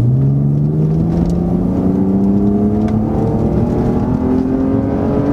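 A 2002 BMW 330 E46 with an automatic gearbox pulls away, its engine note rising steadily and smoothly in pitch as it accelerates, loud and close with a continuous rumble and no voices.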